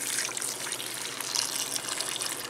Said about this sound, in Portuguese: e vou colocar água para cozinhar.